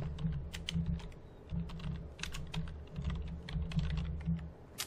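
Someone types an IP address into server settings on a computer keyboard, giving a quick, irregular run of close, crisp key clicks with short pauses between bursts and no voices.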